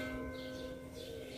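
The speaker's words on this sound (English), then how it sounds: "There's a church, a Catholic church close by, so that's where the bell is coming from." Sustained ringing from a Catholic church bell close by, a steady humming peal at moderate level, heard alone with no voices.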